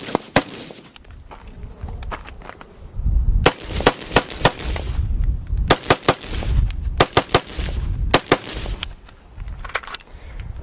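An Aero Precision M4E1 rifle fired outdoors, sharp loud cracks in uneven strings of quick shots with short pauses, some shots doubled, over a low rumbling background.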